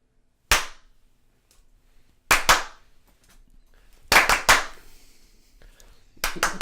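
Sharp hand claps used to sync a podcast recording: a single crisp clap near the start, then a quick double, a cluster of several, and one more at the end, all close and loud against near silence.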